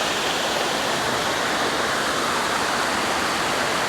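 Waterfall at the entrance of a botanical garden, a dense, steady rushing hiss of falling water, close and unbroken from start to finish with no voices.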